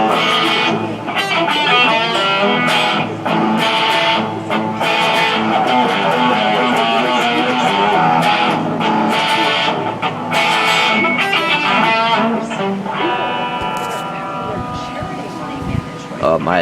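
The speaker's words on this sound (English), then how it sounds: "the guitar sounds like this" Electric guitar playing through a Fender Mustang I modeling amp on a British 60s setting with gain, dense and sustained with chords and notes ringing steadily at a fairly loud level.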